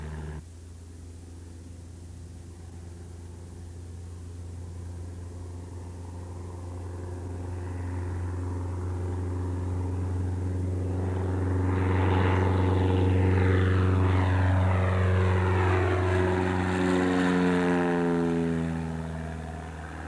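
A seaplane's propeller engine swells to full power for a takeoff run on a lake, a droning roar that builds over about twenty seconds and sweeps past with shifting pitch, no talk.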